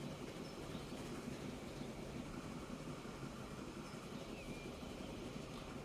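A steam train runs in the Transport Fever 2 video game, giving a faint, steady rolling rumble that continues evenly without clear breaks.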